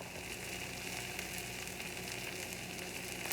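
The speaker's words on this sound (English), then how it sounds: "the onions have been cooking on one side on medium-high heat now for about 5 minutes" Onions sizzling in a pan on medium-high heat, a dense, even crackle held close and steady throughout with no voices.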